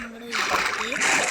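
A short watery splash and sloshing burst in Minecraft, preceded by a brief tonal sound, with a voice speaking over it.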